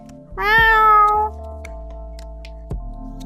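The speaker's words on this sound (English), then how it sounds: "this is my beautiful baby kitty, Shisha." A cat gives one drawn-out meow up close, over a steady low hum that continues after it ends.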